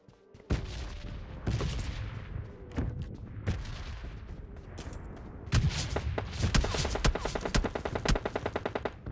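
Gunfire in the PUBG Lite mobile battle royale game: scattered heavy shots at first, then rapid automatic bursts and dense volleys, loud and close, with sharp cracks over a rumbling background.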